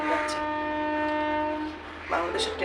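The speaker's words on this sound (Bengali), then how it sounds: "ট্রেন যাচ্ছে" A train passes by in Bangladesh and sounds a long, steady horn blast over a low rumble. A second, shorter burst of the horn comes near the end.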